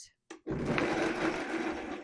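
A kitchen blender runs continuously on tomatoes for sauce, a steady loud whirring motor after a brief start-up stutter, heard alone without talk.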